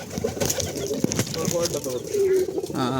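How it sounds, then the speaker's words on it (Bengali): Several pigeons of mixed breeds coo softly and continuously on a farm with chicks and birds sitting on eggs, their low warbling calls overlapping nearby, with a faint rustle near the end. "অনেক জাতির কবুতর আছে এখানে কবুতরের বাচ্চা আছে"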